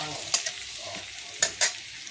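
Chopped ginger sizzles quietly in a pan as it is stirred and fried, with a few sharp scraping clicks from the stirring over a soft, close frying hiss, no talk.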